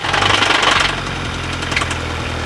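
A rough 2.0 TSI engine, damaged from running low on oil, runs steadily with a harsh, rapid knocking rattle throughout, close up and loud, with no voices.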